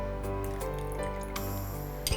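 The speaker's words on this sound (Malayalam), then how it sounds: "കുറച്ച് നാരങ്ങാ നീരും കൂടി ഒഴിക്കുന്നു" Lemon juice poured into a blue syrup drink made with ice apple and chia-like seeds, giving faint close drips and a brief liquid trickle over a steady low background hum.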